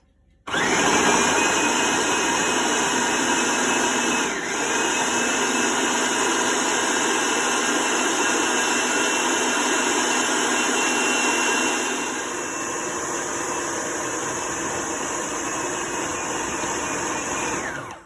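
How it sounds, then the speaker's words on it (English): Food processor whirring steadily as it mixes cold tart dough for cranberry tarts, a loud continuous motor drone that runs for the whole stretch and eases slightly in pitch partway through, with no voices over it. "you put it in a food processor to make the dough"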